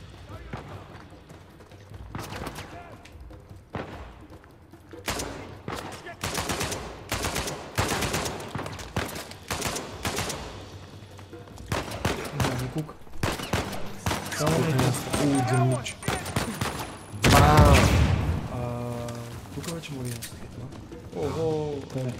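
Rapid bursts of gunfire in the video game Uncharted 4 crackle in repeated volleys, loud and close, while players chat over the action.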